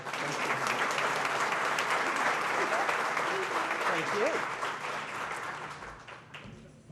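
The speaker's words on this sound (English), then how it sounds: "Give her a nice round of applause." Steady, full applause from a seated crowd at a YMCA appreciation dinner as an honoree is recognized. Brief speech comes through near the middle, and the clapping thins and fades out at the end.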